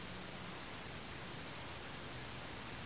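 Water rinsing a copper plate during a dark pewter finishing job, a steady, faint, even hiss of running water with no breaks or voices.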